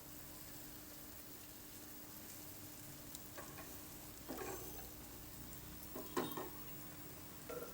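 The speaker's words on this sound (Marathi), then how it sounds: "व्यवस्थित परतून घ्यायचा। मसाला मस्त परतून झाला," Masala being sautéed in a pan for a masala egg fry gives a faint, steady sizzle, with a few brief louder scrapes and clinks of stirring near the end and no talking.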